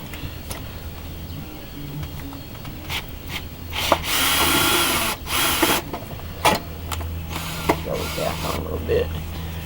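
A power tool whirs in bursts of a few seconds while working on the harmonic balancer and oil cooler of a Corvair engine, with metallic rubbing and clanks in between and a faint low hum underneath.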